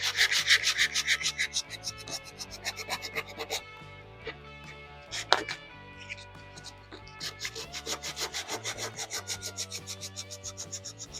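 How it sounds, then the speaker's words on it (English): Rapid rhythmic rasping as 600 grit sandpaper rubs over a painted snowman figure, quick back-and-forth strokes close up with a brief pause midway. "Now I'm going to sand these little areas, and I'm using 600 grit for this"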